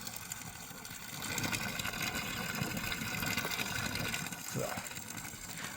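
Government-scheme solar motor pump running and pushing water, a steady, fairly loud whirring hum with gushing flow that continues throughout, with no clear change in level.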